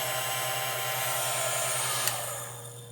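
Homemade 3D-printed electric blower for a grill, modeled on a hair dryer, giving a steady close whirring drone with a constant motor hum that fades slightly near the end.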